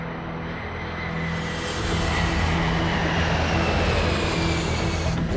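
A KLM airliner accelerating down the runway for takeoff, a loud steady jet roar with a low droning hum that builds slightly in strength throughout, with no voices.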